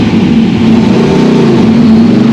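An IndyCar race car at the Iowa State Fair pulls away under power, its engine a loud, dense, continuous roar that fills the whole moment up close, with no voices.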